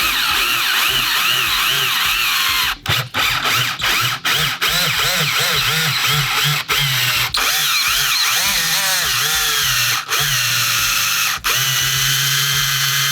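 A power drill drives bolts into roller blade wheels for a PVC camera dolly, its loud motor whirring steadily and close with repeated brief stutters and pitch shifts as the bolts thread in, while a voice talks over it.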